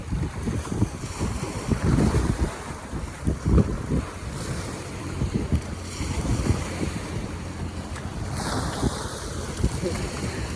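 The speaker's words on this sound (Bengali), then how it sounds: "জলের ঢেউ দেখেছো, ওইখান থেকে এখানে চলে আসছে।" Sea waves roll and wash ashore at Dhanushkodi in surging bursts, mixed with heavy wind buffeting the microphone, loud and close throughout.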